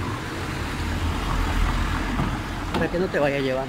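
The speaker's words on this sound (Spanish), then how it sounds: "Viene un carro, pues hay que meterse al lado" A car engine rumbles close by as a vehicle moves through a narrow street in the old town of Toledo, Spain, with a person speaking over it near the end.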